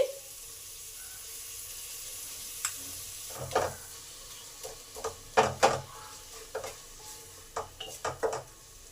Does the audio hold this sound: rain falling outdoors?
no